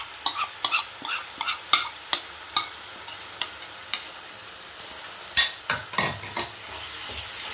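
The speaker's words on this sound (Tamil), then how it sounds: "நல்லா இந்த பச்சை ஸ்மெல் போகிற வரைக்கும் நல்லா கலந்து கொடுங்க" A spoon stirs egg biryani masala with salt and turmeric in a hot pan, making a string of regular scraping clacks over a low sizzle, close and fairly loud with no talking.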